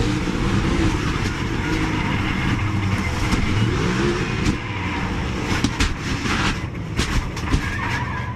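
NASCAR race car in a high-speed crash at a quarter-mile track, loud roaring engines and a sudden burst of impact and skidding noise amid crowd and track ambience.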